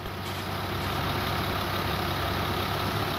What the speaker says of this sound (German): Tobis Traktor klingt ziemlich gut.